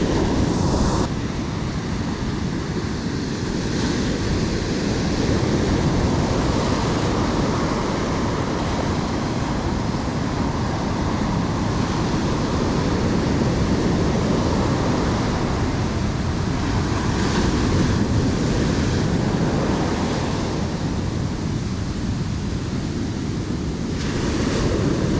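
Ocean surf breaks on a beach during shore fishing in a big swell, a steady, loud wash of waves rolling in continuously with wind buffeting the microphone and no voices.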